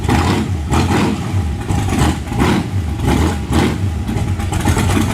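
A fully built T-bucket hot rod engine revs in repeated bursts as the throttle is blipped, rising and falling four or five times over a rumbling idle, loud and close.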